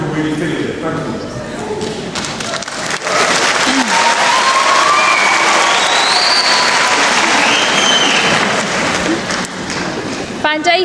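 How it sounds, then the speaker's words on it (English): Loud, sustained audience applause in a hall during a university graduation ceremony, a thick wash of clapping that swells after a few seconds, with voices and some whistling or cheering mixed in. "keep the energy and the applause going"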